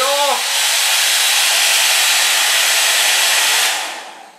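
A nearly 16-year-old vintage hair dryer blowing on its cool-shot, fan-only setting, a loud, steady close-up whoosh that starts after a click, holds level for about three seconds, then winds down as it is released.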